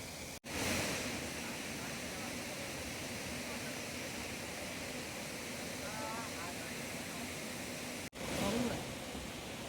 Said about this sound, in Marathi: नापणे धबधब्यावरती पर्यटक